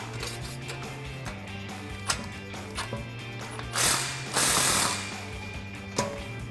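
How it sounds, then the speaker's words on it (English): A ratchet with a 15mm socket tightens an exhaust pipe clamp on a Jeep Wrangler JK cat-back exhaust, producing sharp clicking bursts and a couple of louder rasping runs over a low steady hum. "I'm going to put the clamp onto the Y pipe first, and then slide the intermediate pipe on and loosely secure it."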